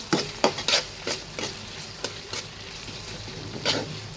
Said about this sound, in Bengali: দুটো শুকনো মরিচ দিয়ে দিলাম।